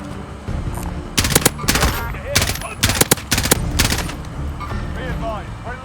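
Bursts of automatic gunfire in Call of Duty Warzone with an M4 rifle, several rapid volleys and sharp shots in clusters, with game voice lines talking over the battle.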